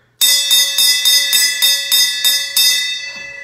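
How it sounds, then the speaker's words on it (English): A victory bell rings in a rapid series of about nine loud, bright metallic strikes, evenly spaced, with a shimmering ring that lingers and fades after the last hit, no voices. "There is that beautiful victory bell."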